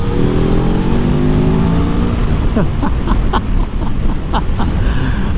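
The engine of a 2022 Aprilia Tuono V4 Factory motorcycle roars loud and close, its tone climbing and sweeping as it revs up, then settling into a steady high growl.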